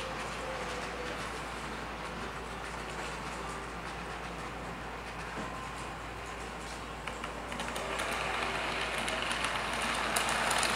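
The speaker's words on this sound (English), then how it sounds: "the diesel should just come in and go through that siding and keep right on going" An American Flyer model diesel train runs through a passing siding on a toy layout, making a faint, continuous rolling rumble with light clicking that grows slightly louder toward the end.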